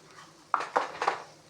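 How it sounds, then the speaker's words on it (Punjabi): A spoon stirs salt into amla pickle in a metal pot, giving three quick, close scraping clinks in a row against otherwise quiet surroundings. "ਤੇ ਹਿਲਾ ਦਾਂਗੇ ਅਚਾਰ ਆਪਣਾ"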